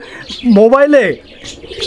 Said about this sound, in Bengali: আমরা এই মুহূর্তে দেখতে পাচ্ছি এখানে চমৎকার আরও এক জোড়া কবুতর